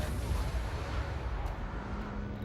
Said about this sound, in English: Multi-cannon.